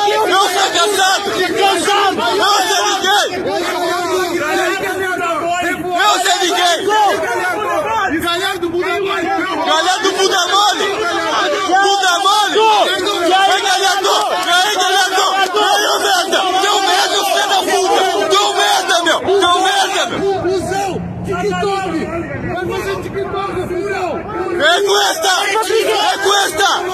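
Football supporters shout angry protests and chants at Internacional players arriving at their hotel, a dense, loud crowd of bellowing voices with overlapping individual yells throughout.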